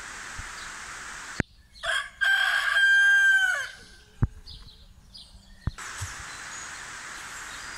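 A rooster crows once, loud and nearby, amid soft clucks and rustling; a few sharp knocks break the quiet between sounds.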